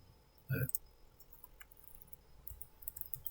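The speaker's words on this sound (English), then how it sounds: "Let's right click, let's rename that" Single computer mouse right-click, a brief sharp tick near the start over quiet room background.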